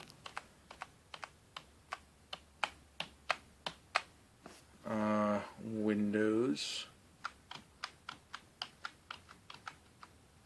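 Individual keys clack on a computer keyboard at a steady, even pace, close and crisp, with a short stretch of talking partway through.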